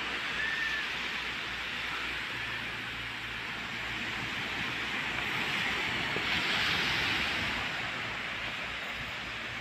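Sea waves wash onto a beach at Calayo, Batangas, a broad steady surf hiss with gentle swells, heard from nearby with light wind noise and no speech.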